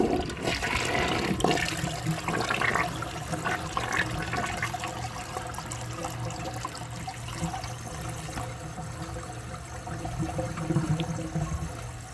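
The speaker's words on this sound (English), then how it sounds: "I'm gonna wait for the tank to fill up, and then I'm just gonna hold it and kind of guide it into the trapway when it flushes." A 1983 Mansfield Imperial toilet flushes with a full, steady rush of water that keeps churning and draining for over ten seconds at close range, tapering slightly toward the end.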